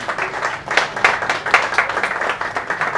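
An audience at a travel and tourism agency event applauds, with dense, fairly loud clapping that swells in waves across the whole span.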